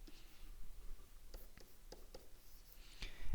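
A pen sketches a graph on paper, giving soft scratchy strokes with several short distinct taps and lifts, quiet and close, with faint breathy background and no talking.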